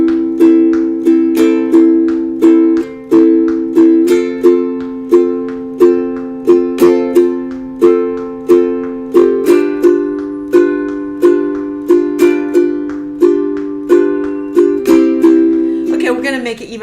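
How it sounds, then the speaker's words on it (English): A guitar is strummed in a steady pattern with sharp percussive attacks on each beat, including foot taps keeping time, loud and close with sustained chords ringing between strokes. "You can hear my foot taps."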